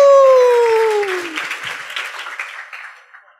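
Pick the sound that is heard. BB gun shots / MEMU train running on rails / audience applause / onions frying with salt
audience applause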